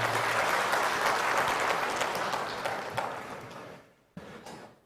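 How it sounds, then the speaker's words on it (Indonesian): Audience applause at an Indonesian government speaking event, a crowd clapping steadily and loudly, then tapering off and fading, with one brief sharp burst of claps near the end before it dies away. "Tepuk tangan untuk kita semuanya."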